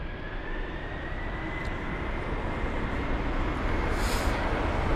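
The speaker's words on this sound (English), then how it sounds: "the 767-300ER heading to New York AWI of flight number UA147" A 22-year-old United Boeing 767-300ER airliner at London Heathrow departing as flight UA147 to New York, a broad, steady engine roar that builds gradually, heard at a distance with no voices.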